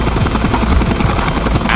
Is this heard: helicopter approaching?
yes